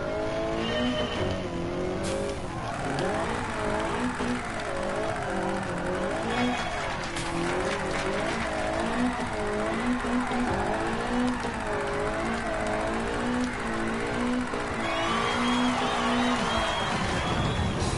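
A race car's engine screams continuously in Gran Turismo 7, rising and falling through gear changes with wavering pitch, tire squeal and skidding mixed in, loud and close; a voice talks intermittently underneath.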